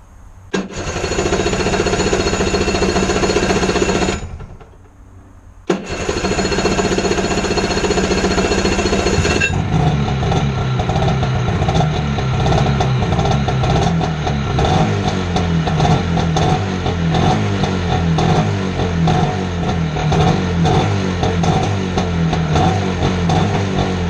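Two-stroke engine on a Wetbike cranks and catches in a loud burst, cuts out briefly, then starts again and keeps running with a steady, rattly buzz close by.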